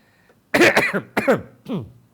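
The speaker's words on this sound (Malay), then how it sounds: "batuk ni." Three or four harsh, bursty coughs in quick succession, close and fairly loud, after a brief quiet start; no talking.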